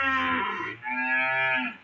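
A hungry cow moos twice in quick succession, loud and close, a long drawn-out call alone without talk.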